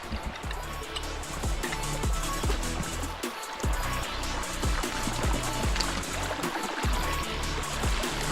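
River water rushing steadily over rocks at a stream crossing near Apollo Bay, a continuous close broadband wash with occasional low thumps and splashes, no voices.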